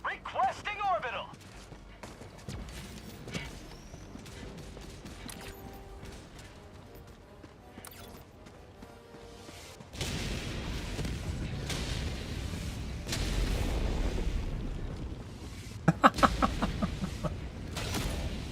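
An orbital walking barrage in Helldivers 2 rolls in from about ten seconds onward, a sustained wall of heavy rumbling impacts that builds and ends in a few sharp, louder blasts, following a stretch of quieter game ambience with voices.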